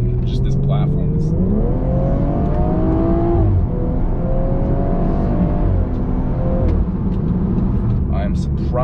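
A tuned BMW 340i F30 sedan running a Bootmod3 Stage 1 tune accelerates hard, its engine note climbing steadily in pitch through a long pull, easing briefly and then building again, heard from inside the car with steady road noise underneath.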